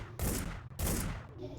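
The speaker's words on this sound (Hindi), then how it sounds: "अबे ये किस पे गोली चला रहा है?" Gunfire in the video game Hitman: Blood Money, two loud bursts of rapid shots separated by a short gap, close and dominant with no talking over them.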